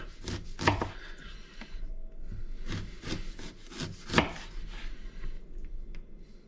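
Sharp knife slicing a quince into thin slices on a board, a series of scraping, crunchy cuts with two louder chops standing out, close and clear with no talking.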